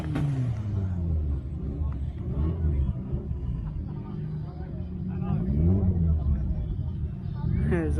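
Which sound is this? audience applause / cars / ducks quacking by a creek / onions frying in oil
cars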